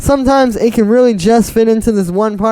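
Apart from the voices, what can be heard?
No everyday noises stand out.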